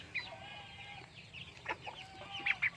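Chickens on a farm where ducks and geese are also kept give scattered soft clucks and brief higher squawks close by, fairly quiet against a faint background, with sharper calls near the end.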